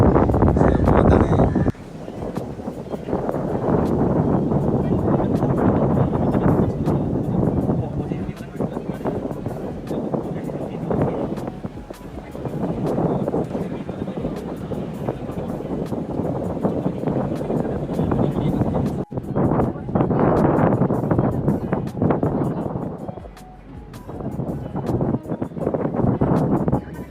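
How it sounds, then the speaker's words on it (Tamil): Strong wind blows at a seaside viewpoint at sunset, a loud rumbling gust noise buffeting the microphone in long surges that briefly drop away, with a voice speaking at times. "இன்னும் கொஞ்சம் காற்று தான் செம்மையாக இருக்குது."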